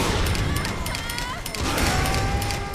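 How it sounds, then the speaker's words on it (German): Dense, continuous combat noise from the video game Saints Row: The Third with rapid bursts of gunfire and crashes, loud and busy throughout with a brief dip midway. "hier muss man einfach nur auf das schießen,"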